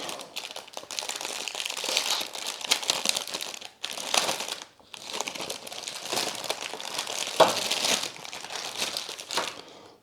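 Loud crinkling and crumpling of plastic packaging as an XP-Pen Deco 640 tablet's stylus is unwrapped, in dense bursts with two short pauses, no voices.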